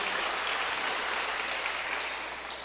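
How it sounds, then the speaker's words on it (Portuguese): A church congregation applauds in praise, a dense, steady wash of many hands clapping at an even level throughout, with no voices standing out. "Pode aplaudir ao Senhor também"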